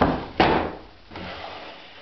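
A drawer on a carved Victorian mahogany serpentine chiffonier sideboard, made in London, is pulled open, giving one sharp wooden knock followed by a softer sliding rub, close and fairly loud.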